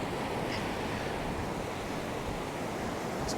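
Sea surf washes continuously onto a beach at night at Cambois, Northumberland, a steady broadband roar with some wind buffeting on the microphone and no talk.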